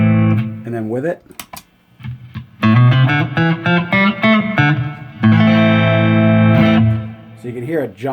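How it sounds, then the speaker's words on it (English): An electric guitar runs through a Keeley compressor pedal into a Fender Champion 100 amp, playing loud sustained chords and picked notes with a bright, even, compressed tone. "Next thing that I usually leave on all the time is the compressor."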